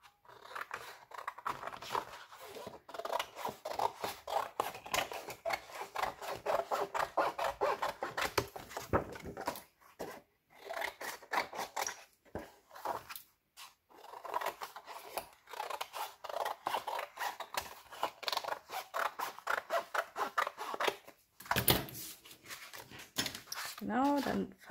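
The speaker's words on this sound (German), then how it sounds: "dann schneiden wir uns ein bisschen was vom Rand ab." Scissors trim the edge of paper for a sturdy Christmas box, with repeated crisp snips in rhythmic bursts, close and clear, and a couple of short pauses between runs of cuts.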